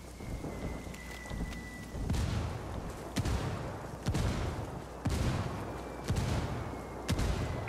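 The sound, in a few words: mortar strike in video game Ghost Recon Wildlands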